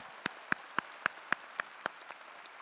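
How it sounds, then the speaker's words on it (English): At a winter university commencement, about eight sharp, evenly spaced handclaps ring out, faint and isolated, like a single person clapping in a large quiet hall. "Let's give you a round of applause."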